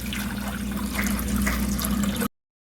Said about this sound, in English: Now we'll add little water also.